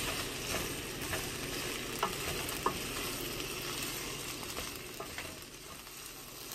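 About a kilo of ivy gourd fries with two medium onions and two green chillies in an uncovered pan. A dense, constant sizzle fills the clip, with occasional light stirring knocks and no speech.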